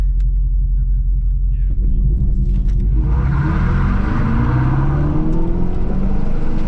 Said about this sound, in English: Launch control in the new Dodge Charger Daytona.